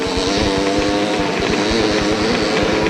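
Vintage off-road motorcycles roar at a 1990 hare scramble race at Hollister Hills, a loud close engine drone with a rapid, steady exhaust pulse and no voices.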